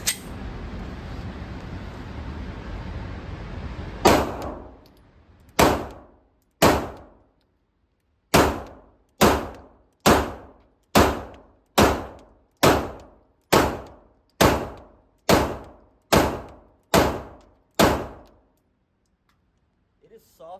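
Ruger RXM pistol firing a string of about fifteen single shots, each a loud, sharp near crack with a short decaying tail, spaced in a steady rhythm after a few seconds of broad rushing noise.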